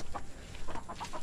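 A few chickens cluck softly in short, scattered bursts, faint and close, with no other sounds around them.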